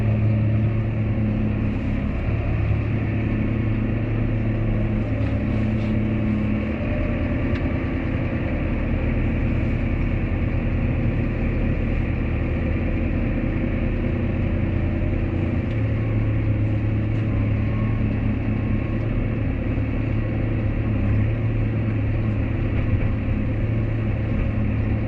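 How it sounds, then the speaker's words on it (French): A Fendt One tractor's engine drones loudly and steadily while it loads a final bucket into a trailer during cleanup of a livestock fattening barn, a constant close hum with no talk. "Là, je charge mon dernier godet dans la benne et puis on est parti."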